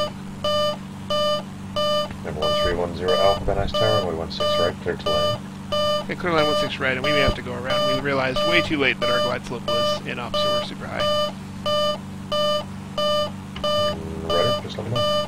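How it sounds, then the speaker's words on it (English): A flight simulator cockpit warning beeps in a steady repeating pattern on an approach to Van Nuys with an inoperative glide slope. The beeps persist under a constant engine drone while a pilot and air traffic control talk over the radio. "Sorry about the beeping. It's annoying."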